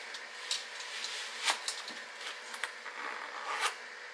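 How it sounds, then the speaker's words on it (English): A zipper running along the side of lace-up biker boots, several quick close zips and short scraping pulls spread across a few seconds in a quiet room. "They've got like really nice zips on the side as well."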